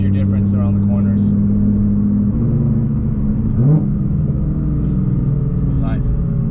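A car engine idles with a steady low rumble, then briefly revs in a quick throttle blip midway, with faint voices nearby.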